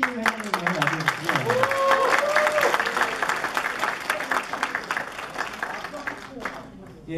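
Applause from a gathered audience greets a newly elected alumni association president, a nursing department graduate, at a university alumni evening. Steady clapping fills the clip under talk, fading slightly toward the end.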